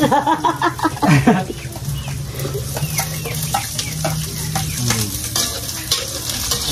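Garlic frying and being stirred in a pan for Filipino chicken adobo, with close sizzling and scraping strokes of a utensil, loudest at first and then settling into a steady crackle with no voices.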